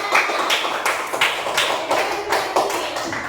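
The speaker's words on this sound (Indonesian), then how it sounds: "Kasih tepuk tangan untuk teman kalian." Classmates in a school classroom give a short round of applause, several quick bursts of clapping in a steady rhythm, close and fairly loud.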